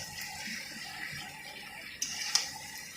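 Water left from rinsing the spice bowl is poured into a simmering curry, a soft, steady splashing hiss with a couple of small spikes, fairly faint and without speech.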